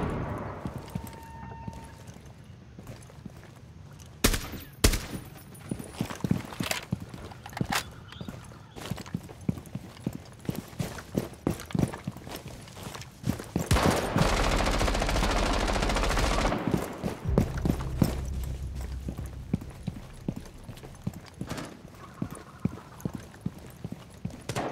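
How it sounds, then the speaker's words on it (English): Shotgun blasts in Rainbow Six Siege boom out as sharp, irregular single shots across the stretch, close and punchy, mixed with footsteps and a sustained rushing burst in the middle, no speech over them. "Shotgun going live."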